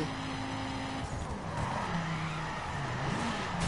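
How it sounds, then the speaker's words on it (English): Tire skids and engine noise from a front-wheel-drive Ford Focus crashing repeatedly in The Crew racing game, a continuous loud screech and rumble with no pauses. "I'm crashing this thing like crazy."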